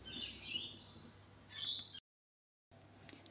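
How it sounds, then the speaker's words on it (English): Outdoor birds chirp and twitter in the background, high thin calls in two bursts, then a brief dead gap before faint ambience returns. "if you can hear birds screaming in the background"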